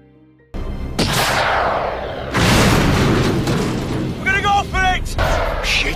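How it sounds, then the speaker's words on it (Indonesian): Several heavy booming rocket explosions in the war film Bravo Two Zero, with rumbling tails, loud and close, separated by brief gaps, with a short burst of voices between blasts. "Bravo 70 memaksa Ray dan Tony melepaskan tembakan roket ke arah tank."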